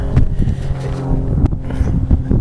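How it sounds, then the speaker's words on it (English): Cold wind blows hard across an outdoor microphone, a loud, gusty low buffeting rumble that swells and dips throughout the short stretch, with no voices. "not least because of the cold wind that is blowing"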